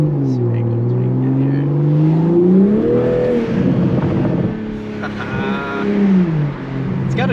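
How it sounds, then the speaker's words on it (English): A 2021 Toyota Supra A91 Edition engine revving up and down, the deep induction roar rising and falling in pitch, close by, with brief muffled voices partway through. "It's got a good induction noise too"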